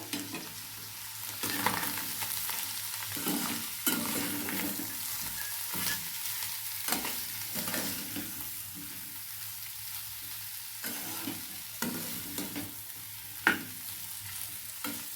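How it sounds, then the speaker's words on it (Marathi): A potato dish with ground roasted peanuts is stirred in a frying pan, a quiet, rhythmic scraping of the spatula repeating every second or so over a soft, continuous sizzle. "आणि हे छान हलवून घ्यायचे बघा"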